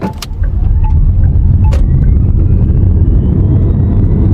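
A JAC electric car pulls away from a standstill and accelerates, giving a steady loud drive hum that rises gradually in pitch, with a few clicks near the start.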